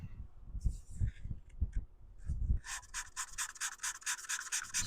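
A wooden turning being sanded on a lathe, first soft scattered rubbing with low thumps, then a steady rhythmic rasping scrape, close and continuous.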